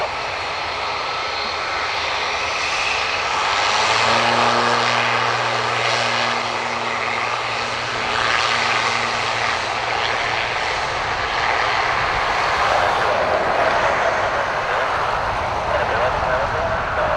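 An ATR turboprop departs Dublin Airport for Edinburgh, its propeller drone loud and near with humming tones and a rising, rushing roar that swells toward the end, while a person talks over it.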